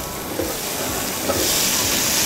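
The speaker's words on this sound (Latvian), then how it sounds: "tas knifs un tas triks ir cept tās pupas vienā kārtā" Beans fry in a single layer in a hot pan, a loud continuous hiss and sizzle that swells slightly partway through, close up with no talking.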